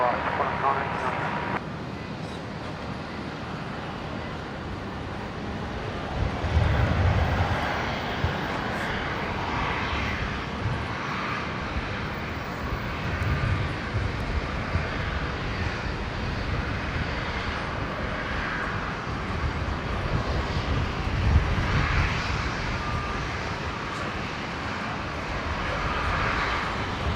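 A Qantas airliner takes off from runway 19 right at Brisbane International Airport, its engines a steady, broad roar throughout, with people talking and air traffic control chatter running over it.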